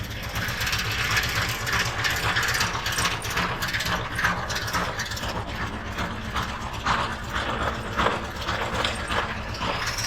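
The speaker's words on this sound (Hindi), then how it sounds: "अपने देश के बाहर आने के बाद मैं पहली बार रिक्शा की राइड ले रहा हूँ" An auto rickshaw engine rattles during a ride in Mombasa with a fast, steady mechanical chatter, close and continuous, with road noise mixed in and no talking.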